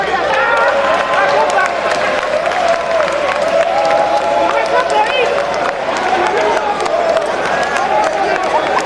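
Crowd applauding at a political rally in Tonkolili District, a sustained dense wash of clapping and crowd noise filling the whole stretch, with a speaker's voice rising over it.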